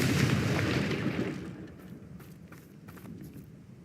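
A Confringo blasting spell goes off in Hogwarts Legacy, a loud, broad explosive burst that rumbles and then fades into a quieter crackling tail.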